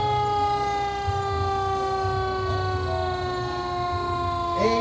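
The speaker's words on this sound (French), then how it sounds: "Et ça se termine Avec un beau camion de pompiers, là." Fire truck siren wailing at a Christmas parade, steady rising and falling tones held loud and close throughout, with crowd murmur and brief voices underneath.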